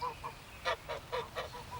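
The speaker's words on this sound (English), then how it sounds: "I went through into the backyard where she kept the geese." Geese kept in a backyard honk in a series of about eight short, nasal calls in quick irregular succession, fairly faint and slightly distant, with no voices.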